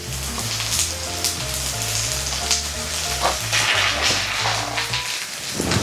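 Onions and peppers frying in a pan for a Sunday breakfast, a steady close sizzle and crackle with light stirring, while music plays underneath.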